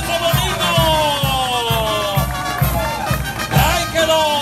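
A crowd at a rodeo festival for the Virgen de la Candelaria celebration in San Juan Yetzecovi cheers and claps under a loud, rhythmic music beat, with a voice carrying over the noise.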